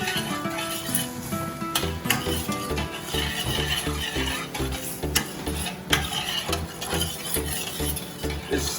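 Butter chicken cooking down in a pot, with a steady sizzle and occasional stirring and utensil clinks against the pot, close and continuous.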